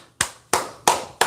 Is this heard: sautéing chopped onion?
no